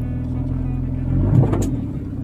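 An SUV engine labouring as it climbs over big rocks in the Aravali hills, a close low rumble that swells and revs up midway before easing, with a brief voice over it.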